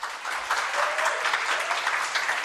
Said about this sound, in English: Let's give them a shower clapping.